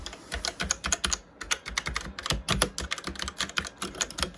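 Typing on a Trust Gaming GXT 865 Asta mechanical keyboard, close up and continuous, with rapid clicky keystrokes in bursts separated by short pauses.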